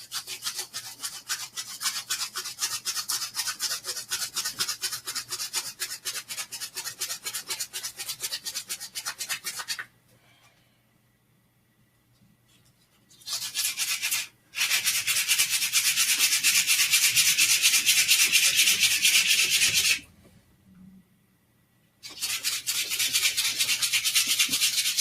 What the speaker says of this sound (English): any like nubs on the handle, I want to sand those off at least.